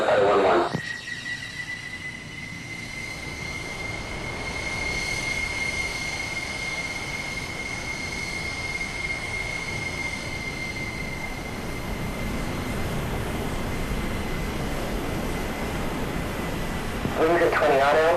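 An F-14B's jet engines roar on a takeoff run in the DCS World flight simulator, a loud continuous broadband rumble with a steady high whine, and radio-style voices come in briefly at the start and end.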